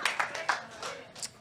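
Scattered hand clapping from a small comedy-show audience, a few sharp claps in uneven rhythm with brief pauses, close and moderately loud.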